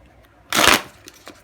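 Tarot cards riffle-shuffled in a single brisk burst of papery flutter lasting about a quarter second, followed by a few soft card taps, close and alone.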